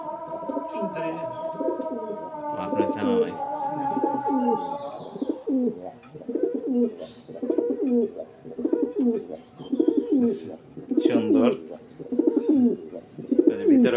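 Pigeons coo in a steady repeating rhythm, close and clear, with a few chirps and brief speech at the start.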